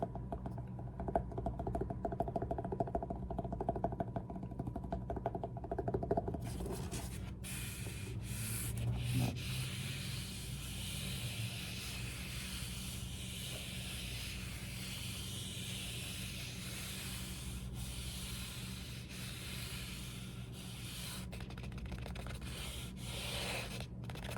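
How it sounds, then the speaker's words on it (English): Soft, steady rubbing and scratching on a faux leather cologne box, close and quiet, continuing in an even texture with faint hiss behind it. "you got the box that it's actually in, which is like that fake leather"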